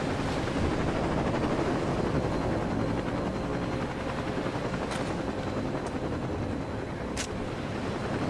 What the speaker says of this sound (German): Okay, jetzt haben wir noch 3 Helikopter.